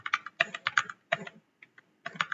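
Quiet, close typing on a computer keyboard into a Chrome browser comes in short bursts of rapid key taps separated by brief pauses.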